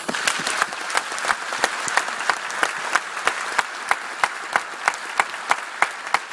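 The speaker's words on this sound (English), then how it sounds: "I'd ask you all to give Catherine a vigorous round of applause" A small crowd at a citizenship ceremony in the Dublin Convention Centre claps vigorously, with sharp, distinct individual claps standing out in a fairly regular rhythm over a softer bed of applause.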